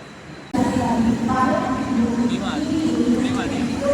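A local train near Kharghar, Navi Mumbai, rumbles along with a steady low drone and rhythmic mechanical hum, starting abruptly, and faint voices mingle with the noise.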